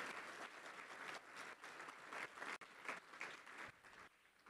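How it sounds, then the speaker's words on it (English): An audience applauds student dancers from a school of creative and performing arts at an education leadership event, a steady, faint wash of clapping that swells and dips briefly before continuing. "Let's have another round of applause for the dancers from San Diego School of Creative and Performing Arts."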